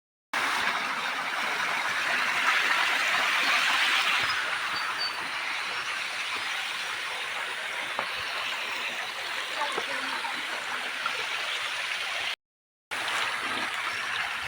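Fresh spring water flows steadily in the mountains, making a continuous rushing wash that holds the same level throughout apart from a brief dropout near the end.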